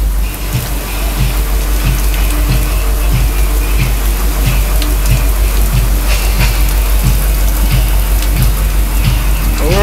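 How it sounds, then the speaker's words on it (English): Heavy Florida storm rain hisses and patters steadily on a boat, with a low droning hum underneath and faint rhythmic thumps. "Just a little Florida storm."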